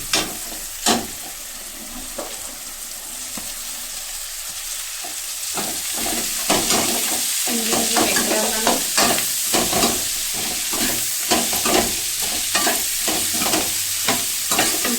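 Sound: okra frying and being stirred in oil

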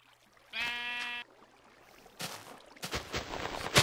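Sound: sheep bleating in the video game Minecraft

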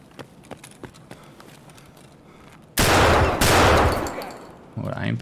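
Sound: gunshots in a video game

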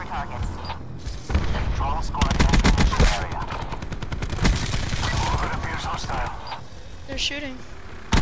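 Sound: gunfire in Call of Duty video game

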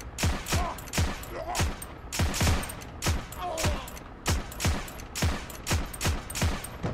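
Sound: M1/M2 carbine semi-auto gunfire in video game Heroes and Generals

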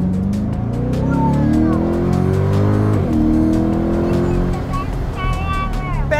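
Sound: Chevrolet Corvette Convertible accelerating fast, tires squealing

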